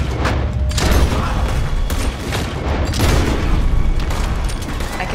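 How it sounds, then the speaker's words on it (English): Gunfire in Red Dead Redemption 2, a loud rapid fusillade of overlapping shots and booming blasts rolling on continuously with no pause. "I'm gonna do some shooting."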